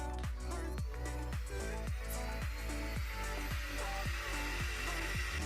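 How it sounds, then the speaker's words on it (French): A cold-air curling iron runs with its fan switched on, giving a steady whirring hum with a rhythmic ticking pulse about twice a second. The sound is close and continuous, with no talking. "maintenant je vais appuyer sur le bouton pour allumer du coup cet air froid"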